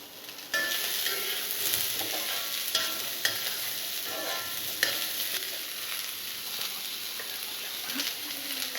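Carrots added to cabbage, beans, capsicum and green peas stir-frying for restaurant-style veg fried rice, with a bright, loud, continuous sizzle and occasional tossing and scraping noises close by.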